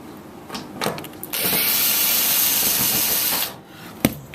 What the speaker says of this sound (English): let's start with getting the 2 screws out from the bottom of the dryer here